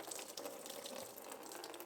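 Blue coolant draining from a Honda Civic water pump, a faint continuous trickling pour of liquid running steadily with no breaks and no talking.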